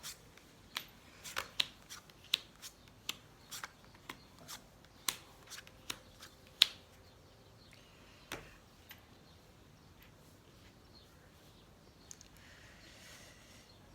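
Tarot cards shuffled for a nine-card spread, a quiet series of crisp riffling snaps and slaps at an uneven rhythm, sparser after the first half, heard up close with no talk.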